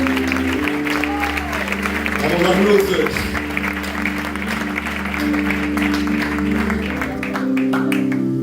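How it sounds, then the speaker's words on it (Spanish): Congregation applauding during a Spanish-language church service, a steady clapping wash running under sustained organ-like music, with someone speaking over it. "¿Le puedes dar un aplauso al Espíritu Santo?"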